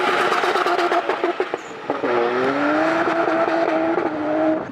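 A car engine at a wet Hull car meet rasps and revs hard nearby, rising and falling in pitch, heard alone without talk.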